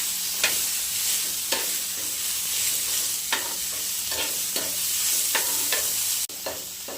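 Onion and tomato sizzle steadily as they fry in a pan, with a string of sharp spoon scrapes and clinks from the stirring spread through the clip at a close, moderate level.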